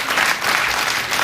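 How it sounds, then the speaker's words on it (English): A late-night talk show studio audience breaks into steady applause after a magic trick, dense clapping sustained from start to finish with no voices on top. "the audience are clapping because of that trick"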